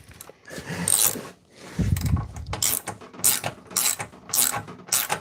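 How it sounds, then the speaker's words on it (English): A ratchet turns bolts on a snowblower, producing close, rapid clicking bursts in repeated strokes with brief pauses between them and no talk. "let's just use a ratchet just to make you happy"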